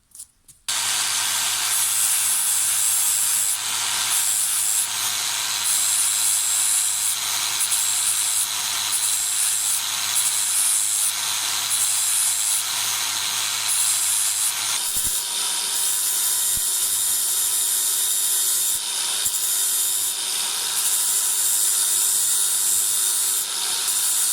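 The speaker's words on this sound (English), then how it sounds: "Give yourself as much room as you can to get your grinder or whatever you're using in there" Grinder sharpening the cutting blades of a hedge trimmer, a steady high-pitched grinding hiss running continuously and close for the whole stretch, with slight shifts in tone as the tool moves along the teeth.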